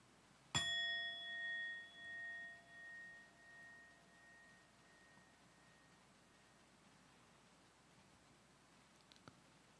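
A meditation bell is struck once in a quiet room. Its clear, bright tone rings out and slowly fades over several seconds, followed by near silence and a faint tap near the end.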